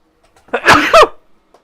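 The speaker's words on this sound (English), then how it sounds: "I have to sneeze." A single loud, close sneeze from a man, with a short intake of breath before it and quiet afterward.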